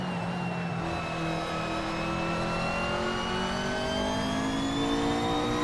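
A GT3 race car accelerates hard out of a corner at Vallelunga in Assetto Corsa, its engine note climbing steadily in pitch as it pulls through the gear. The sound is loud, continuous and close, with no talk over it.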